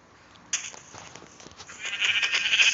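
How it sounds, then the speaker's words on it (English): Video-game sheep bleat in a burst of rising, wavering calls, close and clear, the bleating swelling louder over a couple of seconds. "There's 2 sheep."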